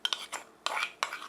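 A spoon clinks against a bowl while rice is stirred into dried pollock hangover soup, a few close, light metallic taps and scrapes in quick clusters with no talking.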